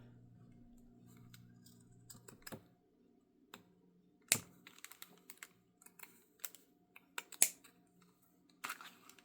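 Quiet, sparse snips and clicks of fabric scissors cutting fabric, irregular and close, with faint background hum and no voices.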